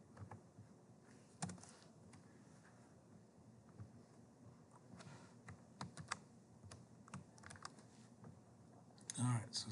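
Typing on a computer keyboard while entering values into a fire simulation model: steady, fairly quiet key clicks in irregular bursts over a faint background hiss.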